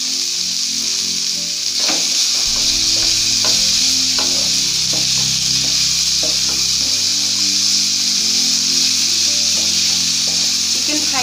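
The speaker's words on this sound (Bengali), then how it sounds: "ফ্রাই করার সময় গ্যাসের ফ্লেমটাকে মিডিয়ামে রেখে চিকেনটাকে ফ্রাই করছি আমি।" Chicken fries in a pan over a medium gas flame, with a steady loud sizzle throughout and repeated scraping, stirring knocks of a utensil against the pan.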